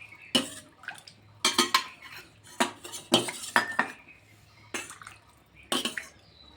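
Metal serving spoon scraping and clinking against dishes while sour dal is ladled into a plate, a series of sharp, close clinks and scrapes in irregular bursts with quiet gaps between, no talking.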